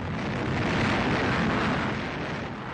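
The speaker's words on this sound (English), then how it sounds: "the Navy's Vanguard rocket lifts off to restore the honor of the USA, only to crash back onto the pad and explode" The 1957 Navy Vanguard rocket falls back onto its launch pad and explodes, a loud, sustained roaring blast of broadband rumble, continuous for a few seconds without talk.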